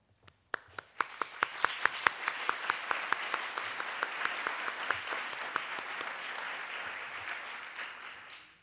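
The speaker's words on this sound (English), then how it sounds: "we'd like to take a moment to applaud them" An audience at a Dartmouth College social justice awards ceremony applauds nominated student groups, starting with a few sharp individual claps that build into full sustained applause, then tapering slightly at the end.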